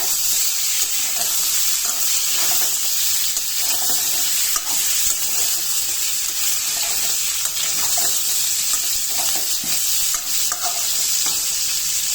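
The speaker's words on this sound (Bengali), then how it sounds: "পটলগুলো ভেজে নিব পেঁয়াজের সাথে" Pointed gourd and potato frying with onions in a pan, a steady dense sizzle throughout with repeated stirring scrapes and clinks, close and fairly loud, no voices.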